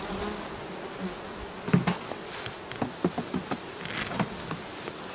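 Many bees buzz in a dense, steady drone close by, with occasional soft taps and knocks on wood mixed in.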